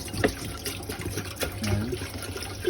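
Tap water runs steadily into a pot while cooking Filipino sautéed clams (ginisang halaan) in broth, a soft continuous trickle and splash at moderate distance with no talk.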